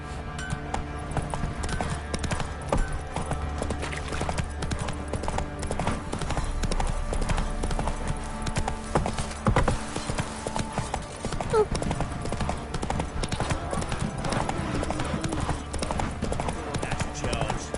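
Roach, Geralt's horse in the video game The Witcher 3, clip-clops along steadily under a dense bed of game music and ambience, with a voice speaking briefly.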